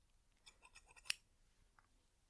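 Hairdressing scissors give a few soft, close snips while trimming split ends in a binaural ASMR recording, with one sharper, louder cut near the middle against a very quiet background.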